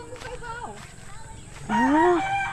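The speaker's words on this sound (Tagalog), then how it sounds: "Manok ni Yuyo mga maninay." A rooster crows once, close and loud, its call rising and then falling over outdoor background noise, after a fainter earlier call; a person talks briefly nearby.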